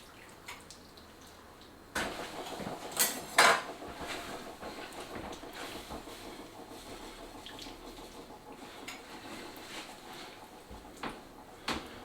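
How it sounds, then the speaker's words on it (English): A spoon clinks and scrapes against a pot while flour and water are stirred together, a few louder knocks standing out early over a quiet, steady background. "I'm just going to stir this in and get it to the boil"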